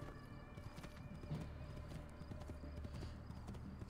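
Steady clip-clop of horse hooves trotting at a regular rhythm in Assassin's Creed II, fairly close, with a brief whinny and faint background ambience.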